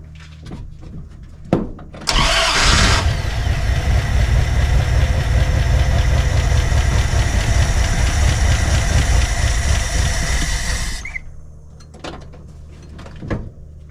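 A 1977 Dodge Power Wagon engine cranks briefly, then catches and runs loud and close with a steady rumble for about nine seconds before shutting off, and a few clicks follow.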